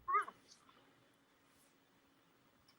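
A domestic cat lets out one quick, close meow right at the start, followed by a quiet room with a faint steady hum.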